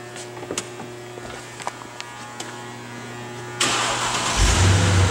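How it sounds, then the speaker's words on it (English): A 2010 Mercedes-Benz GL450 4Matic SUV cranks and fires up after a few quiet clicks, settling into a loud, steady idle close by. "We're going to start the engine for you."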